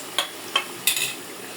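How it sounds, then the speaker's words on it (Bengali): Spice paste of chili powder, cumin and coriander paste being fried and stirred in a pan, three short scraping sizzles close by, quiet in between. "মশলাটা হালকা একটু কষায় নেব"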